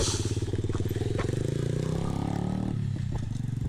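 A pit bike's small engine runs close by with a steady, fast, rough putter that sags slightly near the end, with faint clatter over it.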